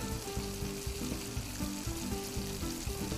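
Food sizzles on a stove in the cooking game PlateUp, a steady frying hiss running under looping background game music.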